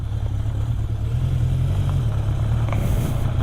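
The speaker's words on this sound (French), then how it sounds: "Le bruit de cette moto est juste absolument génial" A 1973 Honda 750 Four K3 four-cylinder motorcycle runs at an easy, relaxed pace, its steady low drone mixed with wind noise and no voices.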